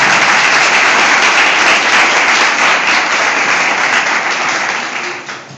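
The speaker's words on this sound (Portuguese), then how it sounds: "Aplauda o Senhor Jesus. E forte." A large church congregation in Recife, Brazil, claps loudly and steadily for several seconds during a sermon, dense and sustained, then fades slightly at the end.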